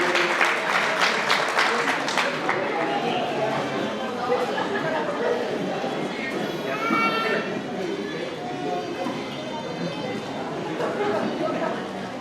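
Guests clapping at a quinceañera celebration in Coacoyula, Guerrero, steady applause mixed with crowd chatter and children's voices, continuing loudly for the whole stretch.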